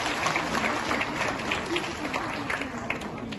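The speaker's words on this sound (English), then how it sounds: "Could we have a round of applause for her?" An audience applauds Sunita Narain, Director General of the Centre for Science and Environment, with a steady wash of clapping throughout and voices mixed in underneath.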